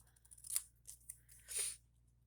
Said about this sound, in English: now I have to cut these out